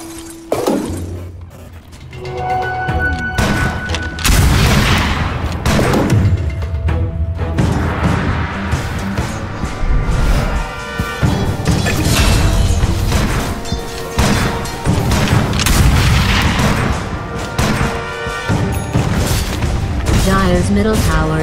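A Dota 2 match with a tower under attack: loud, dense booms, crashes and shattering impacts from the battle, with game music and announcer speech throughout.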